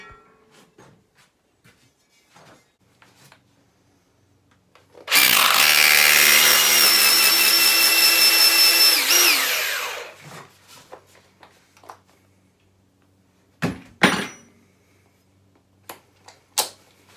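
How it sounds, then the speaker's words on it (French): A power drill bores a 14 mm hole into brick while a wall-hung toilet frame is fixed in place, a loud steady whine lasting about five seconds and then winding down, followed by a few knocks and clatters. "je perce à 14 pour y mettre de la chute 14 pour être sûr que ça tienne dans la brique"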